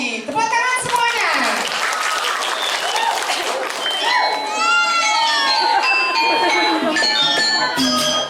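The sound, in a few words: audience applause after dance drama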